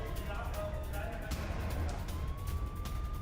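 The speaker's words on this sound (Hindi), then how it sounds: "तेहरान में बज रहा है एयर रेड सायरन" An air raid siren in Tehran wails steadily, its tone slowly rising, over a constant background roar with faint voices.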